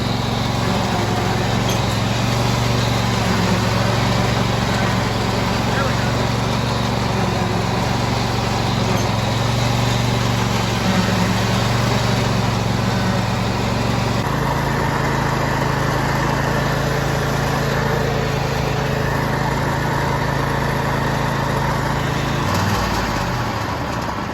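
Small engine of a cheap homemade riding mower runs steadily and loudly close by for the whole stretch, a constant buzzing drone whose pitch drops slightly partway through and shifts again near the end.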